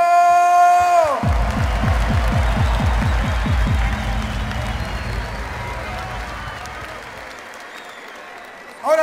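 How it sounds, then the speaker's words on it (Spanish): A live crowd at a freestyle rap battle final in Chile bursts into loud applause and cheering after a musical sting cuts off, the roar gradually thinning out toward the end. "¡Fuerte aplauso!"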